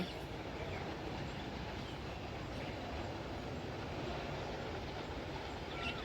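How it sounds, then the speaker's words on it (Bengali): A big fire outside a BSF camp roars in a steady, low rumbling drone, like a distant train, continuous and fairly faint with no voices. "ঢাপড় ঢাপড় করে আওয়াজ হচ্ছে আর আগুন জ্বলছে ওখানে"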